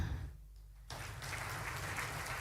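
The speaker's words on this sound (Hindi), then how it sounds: "तालियां।" Applause from a conference audience starts abruptly after a brief quieter moment, welcoming the Governor of Rajasthan, and continues steadily, a dense wash of many hands clapping.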